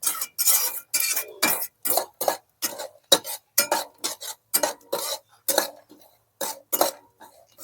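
A spoon scrapes and clinks against a pan as an adadiya mixture is stirred and roasted in ghee, in quick repeated strokes with brief pauses between them, close and fairly clear with no talking.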